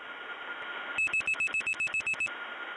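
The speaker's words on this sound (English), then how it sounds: "let's now beep out a 0 and see what we get." Single-frequency tone pulses dialing a zero on a 1979 step-by-step tandem telephone line, about ten short, evenly spaced beeps over a faint background hiss.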